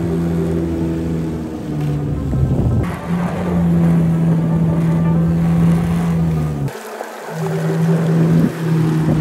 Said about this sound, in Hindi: वाटर एडवेंचर्स में से एक फ्लाइंग बोट भी है जो कि एक बहुत ही नया एक्सपीरियंस है।